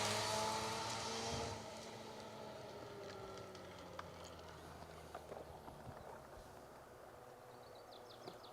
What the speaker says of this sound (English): Here's a car then that is being driven exceptionally well today.